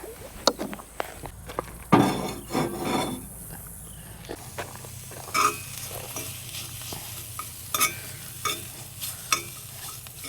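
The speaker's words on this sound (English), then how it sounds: "The onions are coming along a little bit." Onions fry in a pan at a lakeside campsite, a soft sizzle under repeated scraping stirs and light clicks of a utensil, with a few louder knocks near the start.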